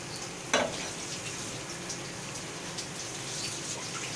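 Okra with green chillies stuffed with a yogurt masala paste fries in a pan in a steady, soft sizzle, with a brief clatter near the start and no talking.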